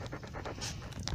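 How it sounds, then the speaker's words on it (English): A small puppy panting in quick, short, breathy pulses, close and fairly quiet, with a rhythmic huffing pattern and no talking over it. "Aw, such a sweet little pup."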